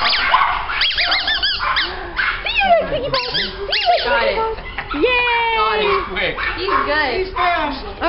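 A small puppy barks, yips and whimpers in quick, excited bursts close by, with people talking warmly over it throughout.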